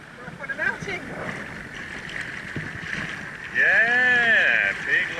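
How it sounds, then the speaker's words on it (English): A small dinghy motors across open sea on a 4-5 mile run, a steady engine drone and wind rush close to the microphone, with people talking over it and the engine tone rising as it speeds up. "A long trip, we're doing about a 4 or 5 mile trip on the dinghy."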